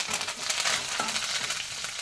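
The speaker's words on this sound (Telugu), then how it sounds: "ఇప్పుడు కరివేపాకు కూడా వేసి వేయించుకుందాం" A loud, continuous hiss of curry leaves frying in hot oil, with faint stirring scrapes mixed in.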